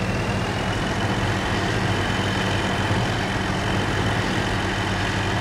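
A tractor engine in a farming video game drives off with a loud, steady, dense rumble that holds an even level from start to finish and has no other sounds over it.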